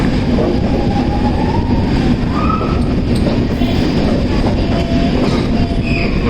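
A Konkan Railway train rumbles through a tunnel in a loud, continuous, enclosed roar, with wheel noise, faint metallic squeals and a steady rolling clatter throughout.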